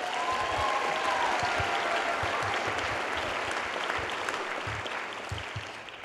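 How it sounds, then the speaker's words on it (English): An audience applauds classical music students at a fine arts academy performance, a full sustained round of clapping that fades slightly toward the end, with no speech over it. "So let's give a round of applause for our classical majors joining us."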